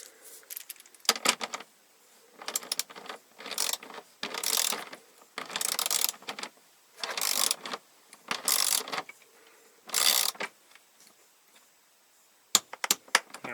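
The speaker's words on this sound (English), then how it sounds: "I've got my trusty torque wrench here." A torque wrench ratchets in repeated short bursts of clicking with brief pauses between strokes, close and fairly loud, while hardware is tightened during a motorhome lithium battery upgrade.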